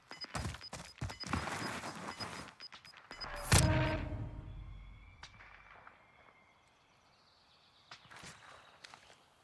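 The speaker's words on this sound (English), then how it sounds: "Gunshots going off to the south" Sharp, distant gunshots in Warzone crack in a quick rapid series, then one louder blast booms and rings out before fading into quiet ambience with faint footsteps.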